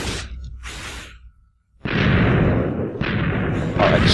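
Two short whooshing bursts are followed by a brief silence and then a sudden heavy blast in Minecraft that roars on, with a further boom near the end, loud and close.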